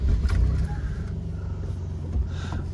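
A Toyota Supra MK3 engine turns over and catches with a deep rumble up close, then settles into a steady low idle. The sound is continuous and fairly loud inside the car.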